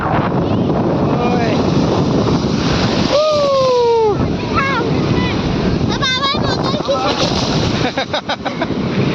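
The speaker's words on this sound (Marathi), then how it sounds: "जोर जोरात आले बघ, लाटा मोठ्या यायला लागला" Ocean waves crash and surge on a beach under heavy wind buffeting. Excited voices, including children's, shout and talk throughout.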